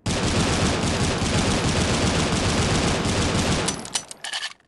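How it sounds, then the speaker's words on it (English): A pistol in the video game Critical Ops is tap-fired as fast as possible, giving a dense, loud, continuous stream of shots that cuts off sharply, followed by a few short clicks. "if you tap fire as fast as you can, it has a faster fire rate than the XD45"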